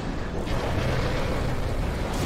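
A burst of explosion noise from an animated Skibidi Toilet battle, with a dense, loud rumbling roar that fills the whole short stretch without any speech over it.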